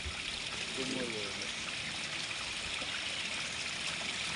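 Hill stream water in the Rangamati hills flowing and trickling as a bottle is filled, a steady close rush of running water with a brief gurgle near the start.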